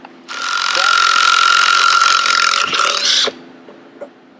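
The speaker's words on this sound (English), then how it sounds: "So now we're gonna get this flywheel off next" A power tool drives a puller to remove a KTM engine flywheel, a loud, sustained whirring burst of about three seconds that stutters briefly near the end, with quiet clicks before and after.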